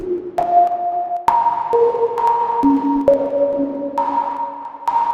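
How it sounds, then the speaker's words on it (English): Synth tones jump between pitches at irregular moments, each sustained note smeared by a washy reverb tail, producing a glitchy stepping pattern. "A really cool way to get some nice glitch sounds is have a reverb where you have a random LFO"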